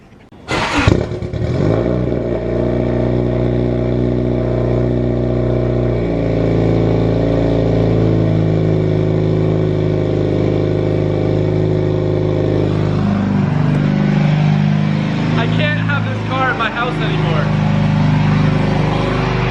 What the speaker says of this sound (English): I'll tell you how I know for a fact that this car is too loud.